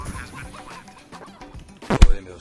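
A short burst of chicken clucking in a video game breaks out near the end, loud and close, after a stretch of busy game sounds with faint speech underneath.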